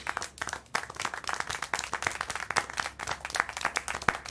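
Steady rapid hand clapping in the video game Syberia: The World Before, a dense patter of claps continuing throughout with no voices over it.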